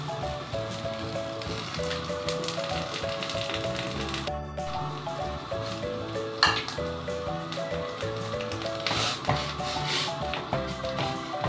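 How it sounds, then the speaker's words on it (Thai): Sweet leaf greens and red ant eggs go into a simmering curry, making a steady close bubbling and rustling, with occasional stirring scrapes, under soft background music. "เราก็จะใส่ผักหวานลงไปค่ะ ตามด้วยไข่มดแดงนะคะ"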